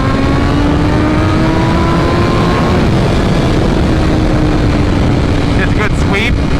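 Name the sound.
BMW M1000RR motorcycle engine revving to high RPM on dyno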